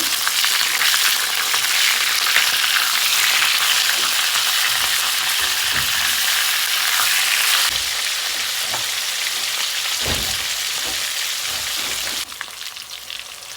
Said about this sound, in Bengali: এদিকে মাছটা একটু ভাজা হয়ে গেছে উল্টে নেব